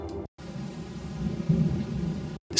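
Muffled, distant rain with low thunder rumbling steadily for about two seconds, framed by brief silences, used as a subtle sound effect evoking a dreary, rainy mood.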